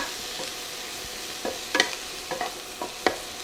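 Onions fry in a pan under a soft, even sizzle, punctuated by several sharp clinks and scrapes of a utensil stirring them, all close by without speech.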